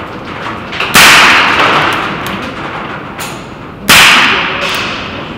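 An Umarex Beretta 92 FS CO2 air pistol fired twice, about three seconds apart. Each shot is a sharp, loud crack with a short fading tail, plus a few faint mechanical clicks between shots.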